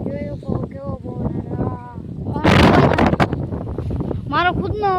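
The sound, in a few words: strong wind blowing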